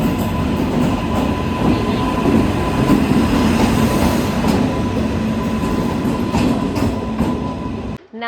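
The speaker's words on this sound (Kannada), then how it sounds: "ನಾವೀಗ ಫೈನಲಿ ಟ್ರೈನ್ನ ಬೋರ್ಡ್ ಮಾಡಿದ್ದೀವಿ" Steady loud rumble and rattle of a moving passenger train heard from on board, with continuous wheel and carriage noise and faint rhythmic clatter throughout, ending abruptly.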